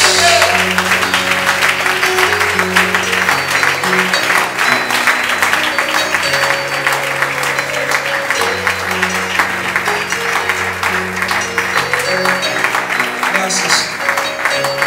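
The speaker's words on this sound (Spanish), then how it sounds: "Dale ese aplauso a Jesús." A church congregation applauds for Jesus in a service, with loud, sustained clapping from many hands over sustained musical tones and a voice.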